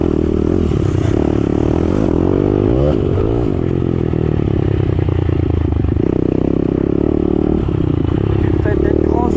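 A 2022 Daytona SP3 190 motorcycle is ridden on the road, its engine droning and rising in revs, with mechanical clatter throughout and a person talking continuously over it.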